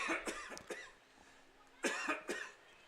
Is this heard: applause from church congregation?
no